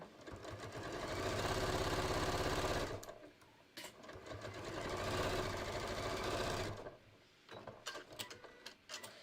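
A sewing machine stitching non-stretch fabric for a shorts waistband, running in two long steady bursts of rapid mechanical chatter separated by pauses, with softer handling clicks at the end; close and moderately quiet, no talking.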